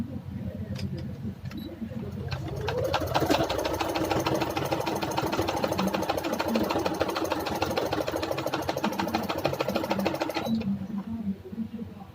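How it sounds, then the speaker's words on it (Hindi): Electric sewing machine running steadily, stitching piping at the corners of a kurta neckline, a continuous rapid mechanical whir that starts after a second or two and stops near the end, close and fairly loud with faint background murmur. "अब मैं इस पे सिलाई लगा रही हूँ कॉर्नर कॉर्नर पे"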